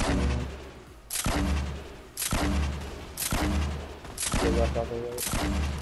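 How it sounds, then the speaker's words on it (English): In a Fortnite match, weapon fire from a grenade launcher goes off as a run of loud blasts about once a second, with players talking between the shots. "I've got a grenade launcher too."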